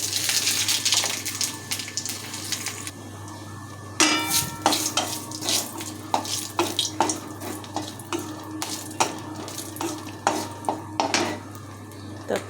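Radhuni seeds and dried red chillies temper in hot oil in a wok. There is a steady sizzle, broken by repeated clinks and scrapes of stirring.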